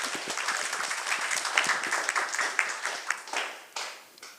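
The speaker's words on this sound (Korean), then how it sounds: "여러분 박수로 환영해 주시기 바랍니다." A large audience applauds steadily and warmly at a youth forum at Pyeongtaek Hyomyeong High School, welcoming a student debater to speak; dense clapping fills the whole stretch and fades slightly at the end.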